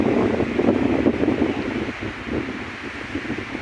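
Steady wind gusts across the microphone at a beach resort, a broad rushing roar that swells and eases, with a rustling, surf-like wash behind it and no voices.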